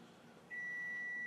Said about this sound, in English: Sorry for the beeping there. That's the dishwasher done.